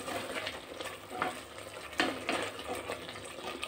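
Chicken curry gravy seasoned with turmeric, bubbling and sizzling in a pot with occasional stirring scrapes, quiet and steady throughout, no speech.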